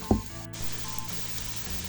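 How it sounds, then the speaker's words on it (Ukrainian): Steady frying sizzle from onions and mushrooms cooking in oil, with a brief clatter at the start, then a continuous soft crackle with no voices. "підсмажити цибулю разом з грибами"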